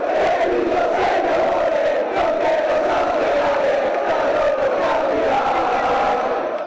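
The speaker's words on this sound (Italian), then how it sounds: "esplode l'urlo di gioia dei tifosi" Thousands of basketball fans gathered before a big screen at Porta San Tommaso in Treviso roar with joy at promotion to Serie A, a dense, loud, unbroken crowd cheer.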